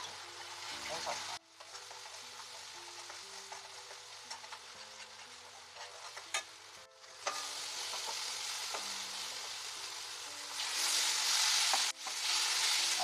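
Masala paste of coconut, cashew, sesame and ginger frying in a hot pan, with a steady loud sizzle and occasional stirring scrapes; the hiss rises sharply near the end, with a low background hum throughout.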